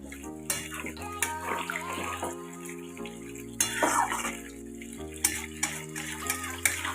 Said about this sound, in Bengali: এবারে এর মধ্যে দিয়ে দিলাম জল।